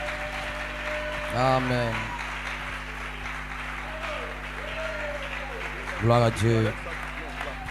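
A church congregation at a convention in Yopougon bursts into applause and cheering in two short, loud swells, with a preacher's voice speaking over a steady background hum.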